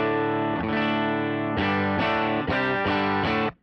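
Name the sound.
electric guitar through a bass-heavy amp model on Tonex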